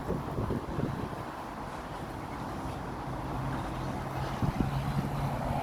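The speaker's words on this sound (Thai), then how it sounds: "ลมแรงวันนี้ลมแรงมากเลย" Steady roaring buffet of strong wind hitting the microphone, constant and loud throughout with low rumbling gusts.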